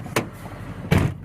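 Car door on a 1985 Subaru XT shutting twice, a light first thud then a heavier, fuller closing bump about a second later, close by with no talking.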